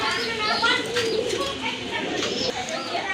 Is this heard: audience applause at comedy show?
no